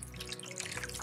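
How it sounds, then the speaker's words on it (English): Water drains from the ebb and flow flood table of a Danner Supreme Hydro kit back into its reservoir in a garden setup, making quiet, close trickling and dripping sounds that continue without pause. "as the water starts filling the flood table and draining back into the reservoir"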